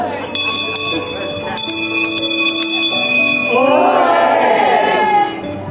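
Bells ring out in England in the ancient city of Chester, steady ringing tones struck in repeated, overlapping peals, loud and close, with a voice calling out over them near the end.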